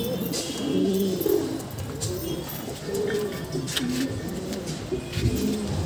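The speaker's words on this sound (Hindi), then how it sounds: "मैं लॉफ्ट के अंदर से कबूतर बाहर करता" Pigeons coo inside a loft in soft, continuous low murmurs that overlap one another, with faint background noise throughout.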